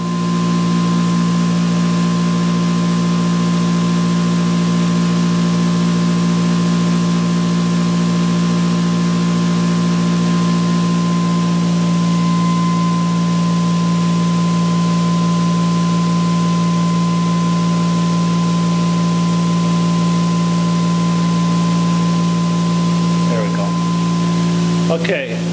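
ReGenX generator with its conventional coil switched onto load, giving a steady, loud mechanical hum with a constant tonal whine that holds unchanged throughout, with a brief disturbance near the end.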